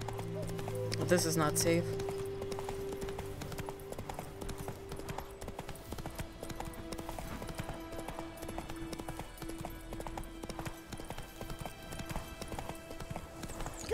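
Hooves of Roach, a horse in The Witcher 3: Wild Hunt, clip-clop in a steady galloping rhythm throughout, while someone talks briefly near the start.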